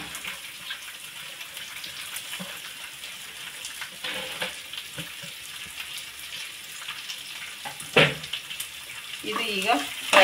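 Green chilies and onion frying in hot oil in a home kitchen, a steady broadband sizzle running throughout, with louder crackling bursts near the end and some faint background noise.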